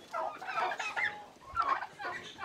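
Turkeys gobble in rapid, warbling bursts, two loud calls close by with a pause between them.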